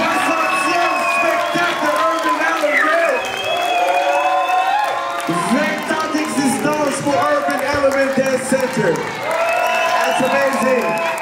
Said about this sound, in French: j'aimerais aussi qu'on donne une bonne main d'applaudissement à Cindy